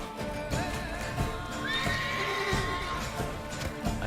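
A horse in The Witcher 3 whinnies with a rising, wavering neigh in the middle, over game ambience and rhythmic hoof clip-clops throughout.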